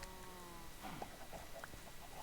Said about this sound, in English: Can you hear all these chickens?